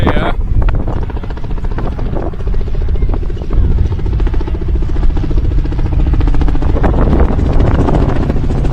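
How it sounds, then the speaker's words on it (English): A helicopter at an outdoor wings-and-wheels show gives a steady, rumbling drone with low rotor thumping, close and loud, buffeted by wind noise on the microphone, with people talking over it. "There's a helicopter here."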